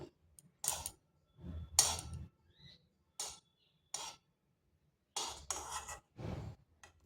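Khaja pastries stirred and turned in sugar syrup with a metal utensil, heard as short bursts of clinking and scraping against the pan, separated by quiet gaps, close and fairly soft.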